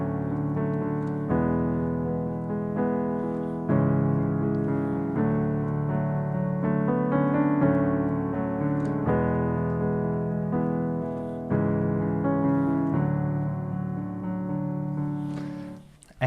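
Piano accompaniment chords for a song played steadily, with sustained ringing voicings changing every couple of seconds beneath a melodic line, close and full, without any voices.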